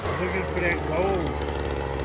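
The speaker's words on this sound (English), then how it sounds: "we're gonna get the old auger and see if we can break something with the old auger machine" An auger machine churns in a suburban shop yard with a steady low motor drone, and someone talks over it the whole time.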